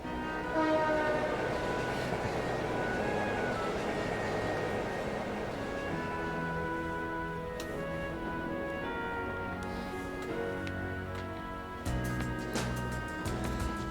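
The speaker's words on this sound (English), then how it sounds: "we changed trains at Berea Station and rode the Kreutzen Main Line north," Passenger train riding north along the Kreutzen Main Line in the video game Trails of Cold Steel, with a steady, loud rumbling roll and horn-like tones that carry throughout, without any talking.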